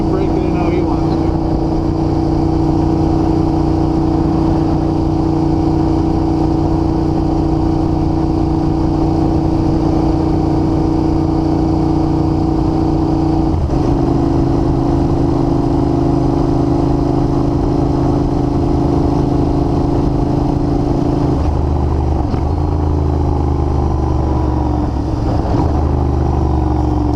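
A 2021 Royal Enfield Continental GT with Emgo slip-on exhausts idles and runs with a steady, loud engine drone throughout, pitch shifting slightly partway through, while someone talks over it.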